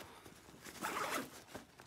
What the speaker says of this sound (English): and zip this thing up